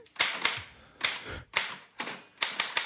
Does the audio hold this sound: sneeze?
no